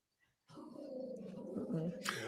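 A dog growls in a low, continuous rumble for nearly two seconds, close to a microphone during an online podcast call, with a voice faintly mixed in near the end.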